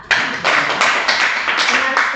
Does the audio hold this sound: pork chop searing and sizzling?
no